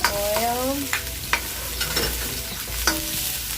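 Garlic frying in oil in a hot wok while miki noodles are cooked, a close, continuous sizzle with occasional sharp stirring clicks and scrapes.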